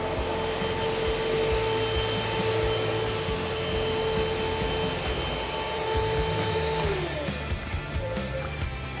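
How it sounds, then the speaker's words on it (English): A vacuum cleaner runs with a steady, loud whine and rushing air, its motor tone dropping as it slows near the end. "Turn the vacuum on here"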